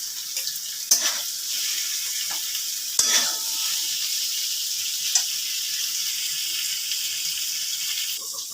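Whole spices such as cardamom, cloves and mace frying in butter in a wok, a steady close sizzle punctuated by a few sharp clicks and taps of a utensil.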